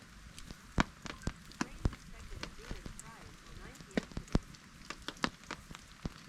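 Rain patters on a tent or tarp at a riverside kayak campsite in the Delaware Water Gap, with irregular close drops tapping over a soft hiss, and a voice speaking briefly.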